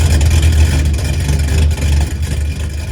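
A Ferrari engine, patched back together with a 2x4, runs at a steady idle, a loud low rumble with a slightly uneven throb that holds for a few seconds.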